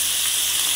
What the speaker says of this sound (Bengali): এই কটা ভাজলেই হচ্ছে হয়ে যাবে ভাজা।